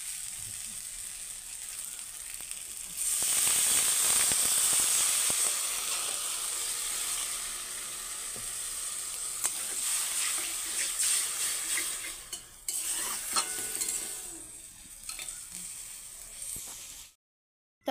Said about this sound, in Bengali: আর 1 মিনিট অল্প ভেজে নেব